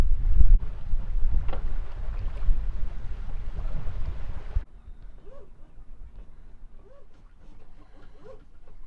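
Wind rushing over a microphone aboard a sailing catamaran, a loud broadband buffeting roar for the first half that drops abruptly to a quieter breeze with faint water and boat sounds.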